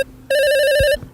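A telephone rings once, loud and close, a bright electronic tone holding steady for well under a second before cutting off.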